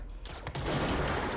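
A shot goes off in the video game Control with a sharp onset and a burst of noise that holds and rings out, fairly quiet overall.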